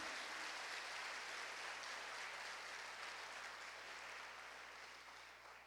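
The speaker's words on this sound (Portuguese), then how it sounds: "Quem pode aplaudir a Deus?" A church congregation claps steadily in a dense, sustained round of applause that gradually fades toward the end.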